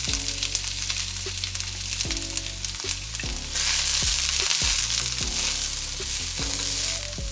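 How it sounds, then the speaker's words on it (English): Onions and carrots sauté in hot oil with a loud, continuous sizzle, broken by several short scraping stirs. The frying swells noticeably louder midway, and no one speaks. "I'm going to add the carrots and I'm going to saute them together"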